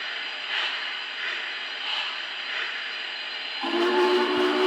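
A Lionel model train engine, controlled through the Cab 3 app, gives off a steady mechanical hum with whistle-like tones. Partway through, the sound shifts to brighter sustained tones over a heavier drone.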